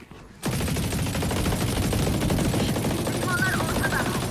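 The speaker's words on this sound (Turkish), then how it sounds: "50 mermi boşluğa tarandı." A video game automatic rifle sprays a long continuous burst of about fifty rounds, loud and close, starting abruptly after a brief quiet moment and running unbroken to the end, with a faint voice briefly audible underneath.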